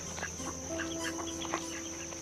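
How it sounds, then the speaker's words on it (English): Ducks at King's Pond quack and cluck in short bursts, several birds calling close by over steady outdoor background noise. "Ducks at King's Pond."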